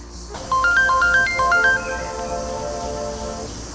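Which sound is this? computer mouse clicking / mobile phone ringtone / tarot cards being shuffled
mobile phone ringtone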